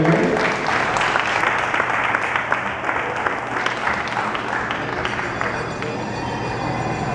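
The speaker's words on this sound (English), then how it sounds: "round of applause for a young Martin there" An audience at a Waipuna performance of Jingle Bells with hula breaks into full, sustained applause, thick and close, with a voice and faint music emerging near the end.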